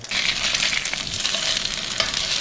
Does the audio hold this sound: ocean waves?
no